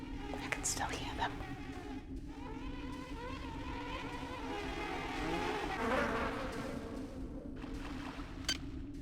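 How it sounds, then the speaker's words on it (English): Droning insect buzz from bees in the System Shock 2 video game, a steady hum running the whole stretch under soft game ambience. "Why the bees?"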